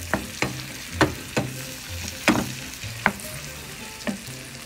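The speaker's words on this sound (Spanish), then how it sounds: "Un poquito de mantequilla, miren. Y ponemos nuestros champiñones." Mushrooms frying in butter in a pan, with a steady close sizzle broken by a series of sharp stirring scrapes about every half second to second.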